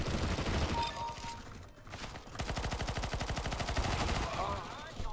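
Rapid gunfire in Counter-Strike: Global Offensive during a pistol round, a fast regular string of sharp shots running through the second half after scattered earlier bursts, loud and close.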